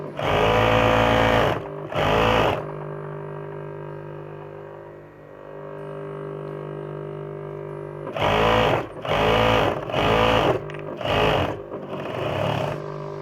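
Domestic sewing machine stitching a skirt hem, running in loud rapid bursts with a quiet pause in the middle while the fabric is repositioned.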